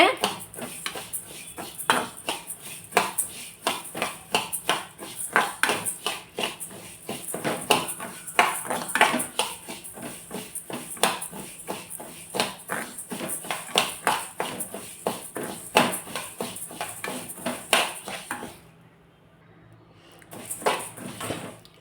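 Lentils dry-roasting in a pan as a metal spoon stirs them rapidly, giving dense rhythmic scraping and clattering close up and fairly loud, stopping abruptly near the end.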